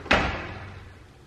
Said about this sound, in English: I love the way it feels when you open and close the doors.